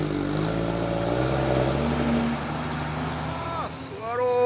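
Heavy trucks labor up the steep Bukit Kodok climb with a loud, steady low engine drone that changes pitch as they pull, close by and continuous, ending with a rising whine.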